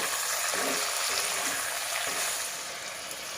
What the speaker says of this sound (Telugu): మన టొమాటో, దోసకాయ వేసుకొని చక్కగా బాగా వాడుకోవాలి.